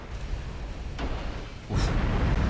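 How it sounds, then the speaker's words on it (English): A torpedo launches from a dreadnought in a naval warfare game's Spanish campaign: a soft whoosh gives way to a sudden, louder broadband rumble that holds steady to the end, with no voices. "Torpedo away."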